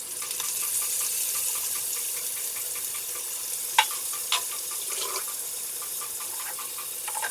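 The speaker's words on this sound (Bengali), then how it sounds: "তেলটা গরম হয়ে গেলে এখানে আমি আস্তে আস্তে মাছগুলো দিয়ে দেব।" Hilsa fish fry in hot oil in a wok, giving a steady high sizzle scattered with sharp pops and crackles, with no voices over it.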